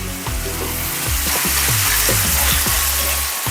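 Beef browns in a pan with a loud, steady, crackling sizzle and a dense hiss that holds throughout, with no one talking.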